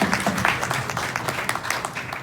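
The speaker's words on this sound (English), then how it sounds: "Let's have a round of applause for my friend." An audience gives a round of applause at a community gathering, scattered claps building into steady clapping at moderate distance with some voices in the background.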